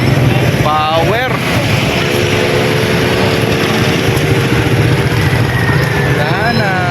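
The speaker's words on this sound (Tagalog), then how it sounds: "Ang ganda ng tunog ng mga motor na yun." Several big bike motorcycles rumble past with a loud, constant engine drone, and their rising and falling pitch sweeps as they move by while people talk and shout over them.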